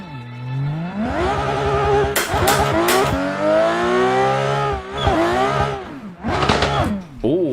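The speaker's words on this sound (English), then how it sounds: "Straight away the car spun on the first clutch kick." Race car in Assetto Corsa, a VDC F22, revving hard with the engine note climbing through several rising sweeps, then sharp tire chirps and a squealing spin-out, loud and close with brief gaps between bursts.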